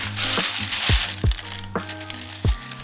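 Packaging for a pair of shoes is opened with sharp crackling and crinkling, several crisp cracks and rustles up close against a quiet room.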